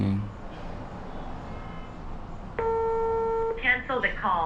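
Intercom call ringing in a newly installed house system: after a quiet, noisy stretch, a clear electronic ring tone sounds for about a second, followed by short chirping tones.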